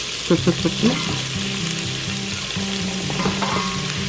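Carrots sizzle in melted butter in an Instant Pot, a steady frying hiss with a few stirring knocks near the start, close and continuous, with background tones underneath.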